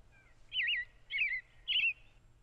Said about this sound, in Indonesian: banyak suara burung ya